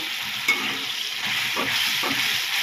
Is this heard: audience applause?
no